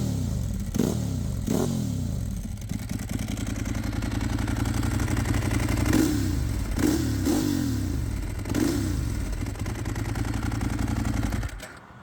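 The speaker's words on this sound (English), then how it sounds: "Now a couple light revs as the bike is up to temperature." A warmed-up 2008 Ducati 1098 superbike idles with a steady, loud, close rumble, broken by several quick light throttle blips that rise and fall back to idle.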